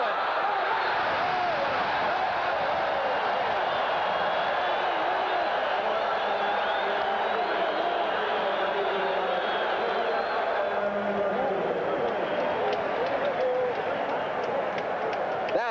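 A football stadium crowd of some 80,000 at a 1983 Seattle Seahawks at Cleveland Browns NFL game makes a steady, dense roar throughout, with a commentator talking over it.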